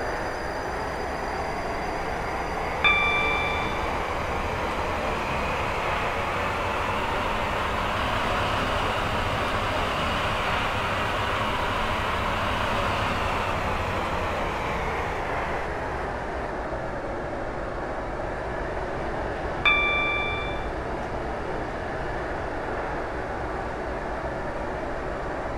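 Class 458/5 train running in the SCR video game, a steady rumbling rail drone with two short tonal chimes, one early and one late, alone without talk.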